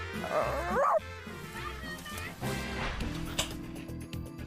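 A man imitating a dog gives a few yips and barks up close at the start, and then studio audience noise and murmuring carry on beneath.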